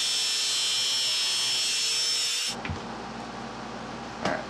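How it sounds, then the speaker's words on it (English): Angle grinder cutting through a bolt, a loud steady high-pitched whine for about two and a half seconds that cuts off abruptly, followed by a quieter room with a couple of clanks. "I'm gonna cut this bolt with the angle grinder"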